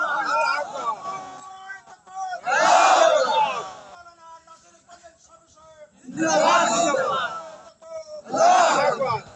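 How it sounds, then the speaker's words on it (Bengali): A large crowd at a religious rally roars out the takbir in unison, three loud massed bursts answering a single leading voice that calls out first. "তাকবীর হবে।"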